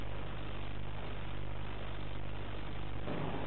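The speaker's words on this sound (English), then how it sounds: "Now return the throttle to the idling position." Diesel locomotive engines idling in a train cab, a steady low rumble with constant harmonic hum that continues unchanged throughout, close and fairly loud with no talking.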